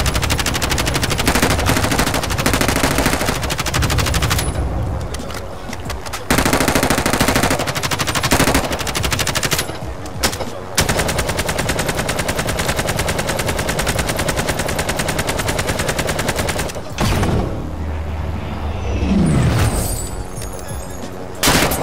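Call of Duty: Modern Warfare gunfire, loud sustained automatic bursts rattling almost continuously, broken by a few short gaps and heavy booms, with players talking over it.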